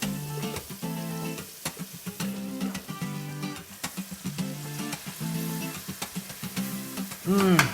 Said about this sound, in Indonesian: Ini saya sudah panaskan wajan dan kita siap untuk menumis sambal hijaunya ini.